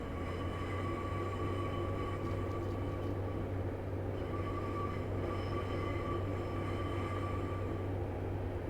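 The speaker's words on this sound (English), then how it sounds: "Lovely bit of flange squeal as we go around the bend." A Class 142 Pacer diesel railcar in a train simulator rolls around a bend with a continuous rumbling drone, while a thin steady flange squeal rings faintly above it, the whole sound sustained at even loudness.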